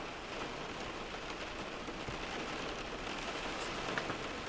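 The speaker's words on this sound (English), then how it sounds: "Like right now it's raining." Rain falls outdoors in cold weather as a continuous broadband patter on surfaces, steady and moderately loud, with scattered individual drops standing out and no talking.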